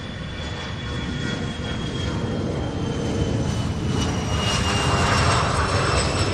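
Southwest Airlines jet airliner at Louisville International Airport, a loud sustained engine roar with a steady whine, swelling gradually as it nears or passes, heard alone without voices.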